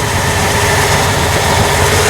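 Steady engine running under load on a hot day while temperatures climb toward vapor lock, a continuous low rumble with broadband noise, loud and close with no speech.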